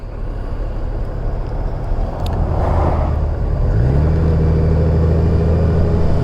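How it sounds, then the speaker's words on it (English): A 2019 Honda Goldwing motorcycle cruising on a road, its steady engine rumble and wind noise continuous throughout, the engine note rising slightly and settling into a stronger hum midway. "Out today on the 2019 Goldwing"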